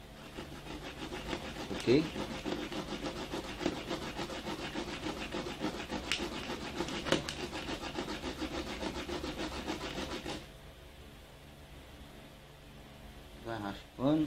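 A flamboyant seed coat being scraped against a rough abrasive surface, giving steady rasping strokes for about ten seconds, close and fairly loud, with a brief spoken word partway through.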